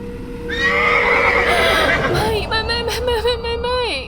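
A young horse, injured and in poor condition, gives a loud, drawn-out whinny with a falling pitch at the end, heard close up over film dialogue and background sound.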